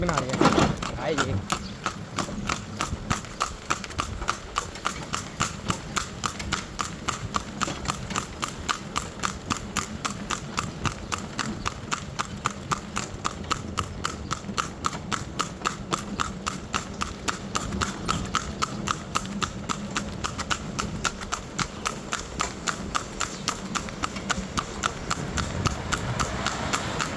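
Steady, rhythmic clip-clop of a horse's hooves throughout a ride through a Bulgarian village, close and continuous, with people talking at times over the hoofbeats.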